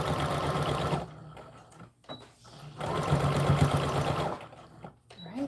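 A sewing machine stitches a doll dress in two close, steady bursts of rapid whirring, separated by a brief pause with small handling sounds.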